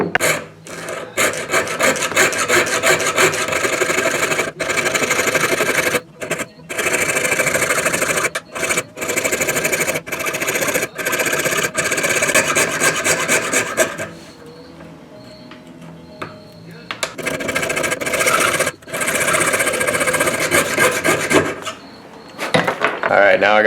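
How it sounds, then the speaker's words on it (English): Hand coping saw cutting a small piece of wood braced in a notched holder, loud rasping strokes in quick regular rhythm, broken by short pauses and a longer break midway before the sawing resumes. "I made that little piece of wood with a notch in it to be able to cut with the coping saw a little"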